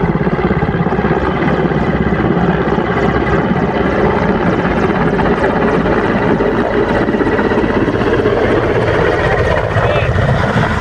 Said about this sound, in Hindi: आप भी देख सकते हैं chief of defence staff general Bipin Rawat के हेलीकॉप्टर क्रैश का दर्दनाक वीडियो।